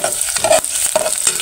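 Garlic and onion sizzle in hot cooking oil in a pan, with a steady close hiss broken by a few short scraping stirs and no one talking.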